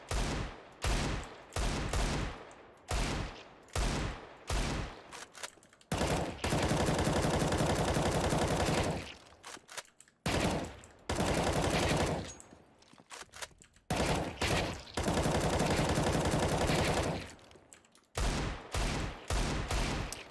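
Desert Eagle pistol fire in Counter-Strike, loud sharp single shots in quick bursts broken by brief gaps, alternating with long stretches of continuous rapid automatic fire.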